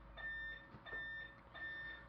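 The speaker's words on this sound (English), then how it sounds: "Excuse that beeping in the background, it's my doorbell." An electronic doorbell beeps in three evenly spaced bursts of steady, high tones, faint and distant against a low background hum.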